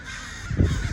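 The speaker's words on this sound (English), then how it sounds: "so many birds" Crows caw close by in a brief, harsh burst amid a flock of birds flying overhead, with a few overlapping calls.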